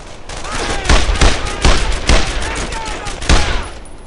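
Rapid bursts of rifle and machine-gun fire fill a World War II Brothers In Arms game cutscene, loud repeated volleys in uneven clusters over a constant battle roar.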